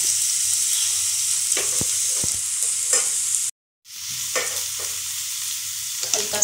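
Bitter gourd pieces sizzle steadily in a modest amount of hot oil, with intermittent scraping clicks of a spoon stirring them through the pan and a brief drop to silence midway.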